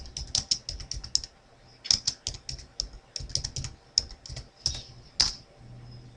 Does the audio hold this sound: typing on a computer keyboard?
yes